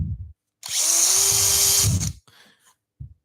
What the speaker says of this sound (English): a nice thin drill bit, and we're just punching through our bit of ply